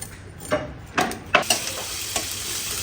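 Spice paste for a fish curry fries in a pan, a steady sizzle broken by several sharp stirring scrapes, close and moderately loud with no voices.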